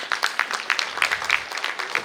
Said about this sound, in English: let's invite Jagan sir with a good round of applause.